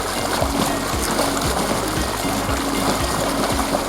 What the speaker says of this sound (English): All of that white water, which is great for other activities when you want to demonstrate intensity, is happening because my dumbbells aren't that submerged.